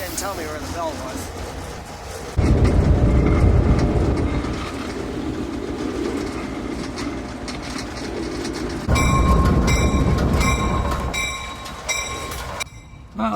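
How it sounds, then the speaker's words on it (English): A train rolls into a station high in the Colorado hills, its wheels clattering loudly as it arrives, with a steady rumble, some metallic squeal and voices talking throughout. "as the train pulls into the station"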